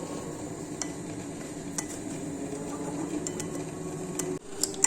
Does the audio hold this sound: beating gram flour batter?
yes